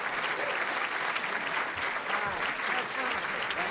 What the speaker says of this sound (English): Let's give her a round of applause, and let's welcome Howard Tullman.